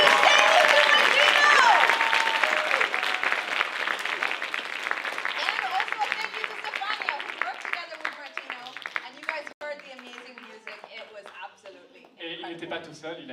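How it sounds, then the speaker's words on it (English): Audience applause at a live cinema show closing a film hackathon in Lausanne, loud dense clapping that gradually thins and fades, with voices talking over it toward the end. "Également beaucoup d'applaudissements pour le musicien qui est venu tout droit d'Italie"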